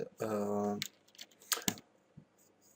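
Clicks of typing on a computer keyboard come in a few scattered, faint bursts, following a short burst of voice.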